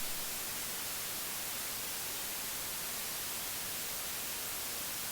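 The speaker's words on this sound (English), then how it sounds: "Just pure white noise." Steady pure white noise hisses evenly throughout, constant and unbroken, played back during a music production stream, with no voices or other sounds.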